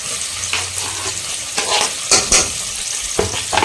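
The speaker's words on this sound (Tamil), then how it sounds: "ஸோ இப்போ வெங்காயத்தை வதக்கலாம்." Chopped onions sizzling in hot oil in a cooker over a high flame, a steady loud frying hiss with bursts of crackle and a few stirring scrapes, no voices.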